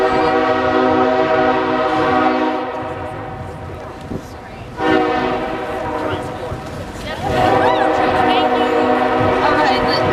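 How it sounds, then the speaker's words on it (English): A train horn sounds in long sustained harmonic blasts at an outdoor March For Our Lives rally, loud and nearly continuous with a brief dip midway, while crowd voices and cheering mix underneath. "We're waiting for the train!"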